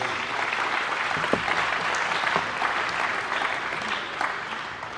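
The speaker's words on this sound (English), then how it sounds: "Give another round of applause to these young ladies." A school awards ceremony audience claps steadily in a large room, a dense even patter of hands with a few sharper claps standing out, moderately loud throughout.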